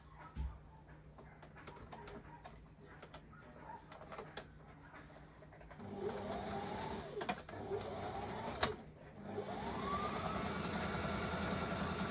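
A sewing machine stitches a skirt waistband, a soft rattle at first that turns into a steadier mechanical whir with short rising and falling pitch sweeps, fairly quiet, alongside scattered clicks and background bird sounds.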